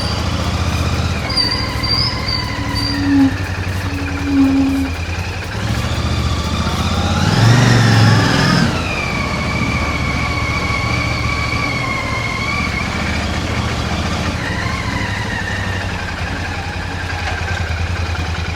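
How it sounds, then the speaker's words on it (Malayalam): A Royal Enfield Classic 650 Twin motorcycle engine hums steadily, rising in pitch as it accelerates, then dropping and climbing again through gear changes, heard close and loud without speech. "ജസ്റ്റ് ത്രോട്ടിൽ നമ്മൾ ചെറുതായിട്ടൊന്ന് കൊടുത്താൽ വണ്ടി എടുത്തങ്ങ് ചാടും."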